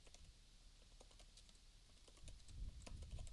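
Quiet, rapid keystrokes on a computer keyboard as a loan calculator app is coded in HTML, CSS and JavaScript, tapping in an irregular stream with slightly heavier strokes near the end.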